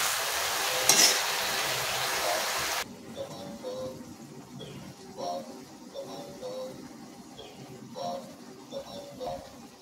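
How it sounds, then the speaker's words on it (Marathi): Onion leaves stir-frying in hot oil, with a loud, dense sizzle for the first few seconds that settles into a quieter crackle broken by soft scraping stirs. "तर या ठिकाणी अशा प्रकारे ती चांगली परतून घ्यायची तेलामध्ये"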